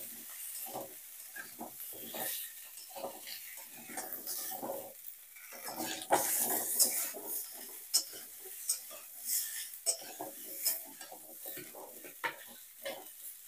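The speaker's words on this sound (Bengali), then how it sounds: "এখন আমি কড়াইয়ের তেলের মধ্যে দিয়ে দিচ্ছি বিন, আলু, আর ওলকপি। সবজিগুলো দেওয়ার পর আমি হালকা করে সবজিগুলো ভেজে নেব" Beans, potato and kohlrabi stirred and lightly fried in oil in a wok, with a soft steady sizzle under repeated scraping strokes of a spatula against the pan, close and fairly busy throughout.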